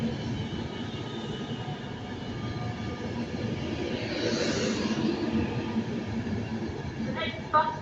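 Five-coach train 390 040 rumbles steadily through Stafford station, a broad, even roar that swells slightly midway, with a public-address voice speaking over the platform.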